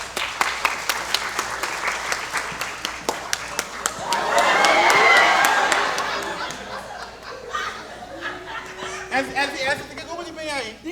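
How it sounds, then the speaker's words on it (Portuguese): Audience at a Curaçao comedy show applauding, with sharp individual claps at first building into a dense burst of applause and laughter, then fading as talk resumes. "Aplauso para Elsie"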